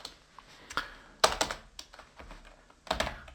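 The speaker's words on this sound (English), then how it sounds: "let's go ahead and start typing." Typing on a computer keyboard while entering Linux command-line code, with irregular clusters of close, crisp key clicks and a few heavier thunks over about three seconds, no talking.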